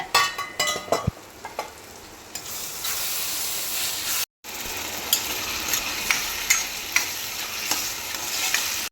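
Masala for egg kuzhambu sautéing in a pan, a loud continuous sizzle and hiss with repeated scraping stirs and a brief break partway through.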